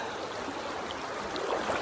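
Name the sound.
creek water flowing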